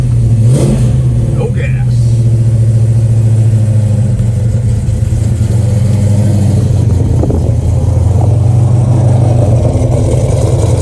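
A 1970 Dodge Challenger engine rumbles loudly and steadily throughout with a deep exhaust tone and a few revs, while someone speaks briefly over it.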